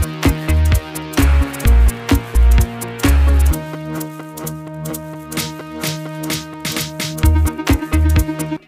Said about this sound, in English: I kind of made the sample into a choppy, reversey kind of style.